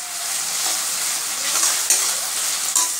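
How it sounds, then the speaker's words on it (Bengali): Sliced onion with salt and sugar fries in a pan for a light mutton recipe, a steady close sizzle broken by a couple of sharper scraping stirs. "এবার প্যাঁচটাকে একটু ভালো করে ভাজবো"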